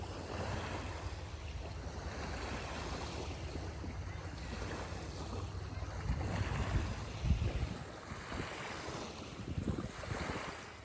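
Gentle waves wash steadily against the shore of the east arm of Grand Traverse Bay, Michigan, under continuous wind rumble, with a few slightly stronger surges along the way.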